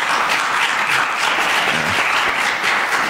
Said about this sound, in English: But can we just give a round of applause to all those,